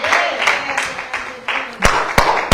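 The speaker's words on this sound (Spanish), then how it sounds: "Aplauda al Rey." A church congregation claps for the King during worship, a broad wash of applause with several sharp louder claps near the end, under a voice.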